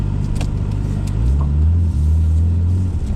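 A Nissan R32 Skyline drives along with a loud, close engine rumble and low road drone that rises slightly in pitch partway through, heard alone without talk.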